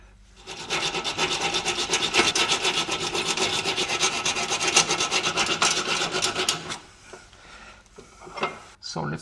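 A hand saw cutting through a steel bolt on a Jaguar S-Type front subframe, a steady rapid rasping back-and-forth stroke, loud and close, stopping near the end and followed by a few faint clanks.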